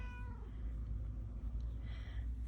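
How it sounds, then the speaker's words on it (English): A cat meows in the background during a strawberry cross-stitch assembly, with repeated mewing cries over a steady low hum, fairly faint and without talk. "You guys can probably hear Kitty in the background"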